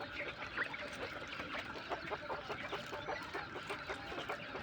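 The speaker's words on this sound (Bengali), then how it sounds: "এই যে নিউ অ্যাডাল আছে কিং কোয়েল।" King quail and coturnix quail, including European white giant coturnix, keep up a steady chorus of clucking and chirping calls in a crowded bird pen, with a faint voice underneath.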